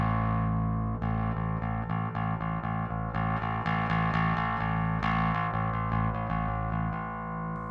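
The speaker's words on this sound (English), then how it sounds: "there's quite a big palette in terms of distortion tones that you get from this pedal actually" A bass guitar through a Trondheim Audio Devices SkarBassOne distortion pedal plays a rhythmic run of repeated notes with a thick, buzzing fuzz tone, loud and sustained, no voices.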